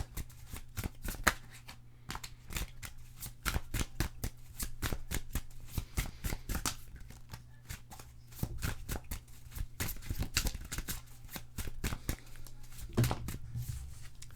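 A deck of tarot cards is shuffled by hand in quick repeated riffles and flicks, crisp papery snaps coming in dense bursts with brief pauses, close and fairly quiet.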